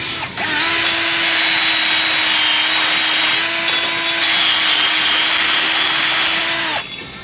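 A power tool polishes the hub face of a Kia Sedona wheel, giving a loud, steady high-pitched whine that starts abruptly, holds for about six seconds and then spins down, with no talking.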